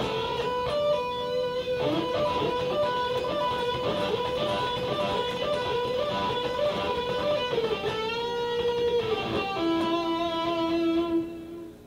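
An electric guitar plays a bluesy lick with sliding pitch bends and quick hammered and pulled notes, ending on a long sustained bent note.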